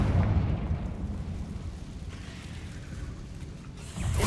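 A Confringo explosive spell blast in the Hogwarts Legacy video game: a deep, rumbling boom opening loudly, decaying into a low roar, then a second heavy burst at the end.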